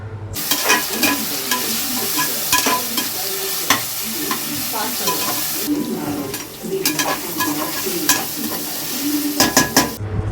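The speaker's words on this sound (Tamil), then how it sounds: "இப்போ நம்ம இஞ்சி பூண்டுலாம் போட்டிருக்கோம்ல, அது நல்லா பச்சை வாசனை போகிற வரைக்கும் நல்லா வதக்கிக்கலாம்" Ginger and garlic sautéing in a pan for chicken biryani: a loud, continuous frying sizzle with frequent clattering scrapes and taps of a spoon stirring against the metal, close up throughout.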